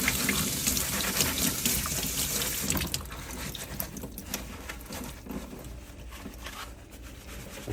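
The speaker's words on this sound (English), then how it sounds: "I turn off the water, give it a little shake, put it back in the container" Tap water runs and splashes while an aquarium filter is rinsed in a sink, a steady hissing spatter that is loudest at first and then softens as the flow is reduced, with no talking.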